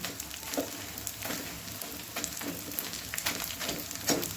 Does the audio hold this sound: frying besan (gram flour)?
yes